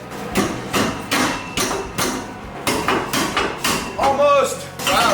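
A hammer strikes welded car metal again and again, landing about ten sharp, clanging blows in a steady rhythm, close and loud, with a clattering ring near the end.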